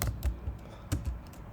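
A computer keyboard typing a pip uninstall command in a Python setup: a handful of soft, close keystrokes in an irregular rhythm, fairly quiet, with no talk.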